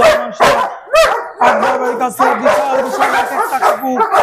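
Several German Shepherd dogs bark loudly and close by in rapid, overlapping bursts, mixed with higher yips and whimpers.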